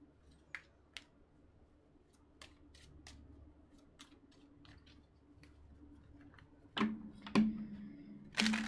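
Tarot cards being shuffled up close: a series of soft, scattered ticks and flicks, building into a few louder riffling bursts near the end.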